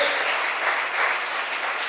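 A church congregation applauds during a worship service, a steady, even wash of many hands clapping at moderate volume, slightly distant and without talk over it.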